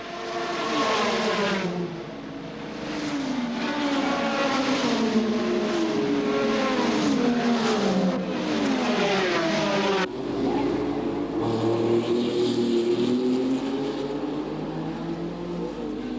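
Race car engines at the 1976 Le Mans 24 Hours, including the works Porsche 936, roaring loudly as they pass, with rising and falling pitch. The sound is continuous with a brief break near the middle.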